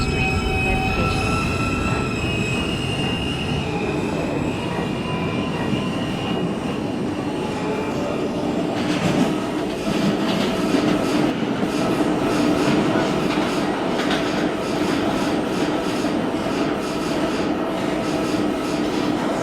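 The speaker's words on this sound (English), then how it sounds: "This is a 207th Street bound A express train." A New York City Subway A express train, an R160A car, runs along the rails with a constant rumbling roar and a high, sustained wheel squeal, and the clatter grows rougher and louder partway through.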